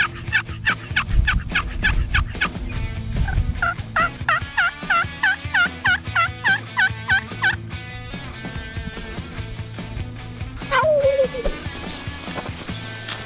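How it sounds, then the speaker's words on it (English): Wild turkeys gobble repeatedly in rapid, rattling bursts across an outdoor hillside, a series of loud calls with brief pauses and a low rumble beneath; no one talks. "we hear them gobbling"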